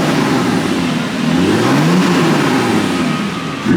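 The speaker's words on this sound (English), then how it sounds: "It sounded like the sport valves opened for a sec and then closed again." A car engine revs close and loud as its sport exhaust valves open briefly, the rumbling pitch rising and falling in a surge before settling back.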